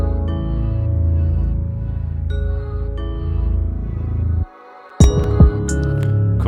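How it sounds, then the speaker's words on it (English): A reverse reverb effect leads into the hook of a produced beat. Sustained tonal layers and pulsing bass swell before a short silent gap, then the beat drops back in with sharp percussive hits. "So right here I have this reverse reverb."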